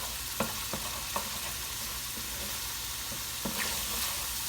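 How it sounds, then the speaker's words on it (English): Tomato paste cooks off in a pot on a stove set to medium-high, giving a quiet, steady sizzle with a few soft stirring taps and clicks scattered through it, close by and with no talking. "So we're gonna cook off the tomato paste"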